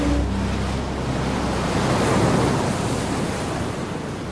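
Strong wind at Force 7 and breaking waves at sea aboard a Viking ship replica under reduced sail, a loud, continuous roar of surf and wind buffeting with no voices.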